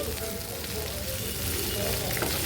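Okra pieces frying in hot oil with curry leaves, giving a steady broadband sizzle that stays loud and even throughout while they are stirred.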